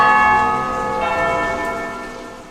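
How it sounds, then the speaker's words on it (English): Church bells toll at noon for the Angelus, their ringing harmonics sustained and overlapping, loud and close throughout with a slow fade and no talk. "When you hear the noon bells tolling, it's time for Angelus"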